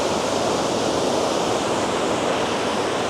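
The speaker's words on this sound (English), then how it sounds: "I'm going to shoot a close-up of the waterfall." A waterfall in South Tennessee, loud rushing water forming a dense, continuous roar close to the microphone, steady throughout with no voices.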